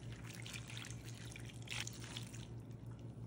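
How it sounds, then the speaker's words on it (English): Water pours into a crockpot while making beef stew, a steady, moderately loud trickling and splashing stream over a low background hum, with no voices. "I'm just gonna add 3 cups of water."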